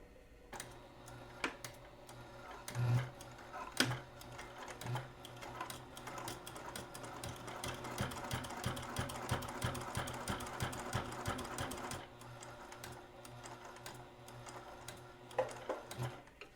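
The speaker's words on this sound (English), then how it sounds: "we're going to do our forward and back stitch and then finish sewing around" Home sewing machine stitching forward and back on a fabric corner bookmark, a soft, fairly quiet rhythmic running hum with short stops and clicks, swelling into a longer continuous run before easing off.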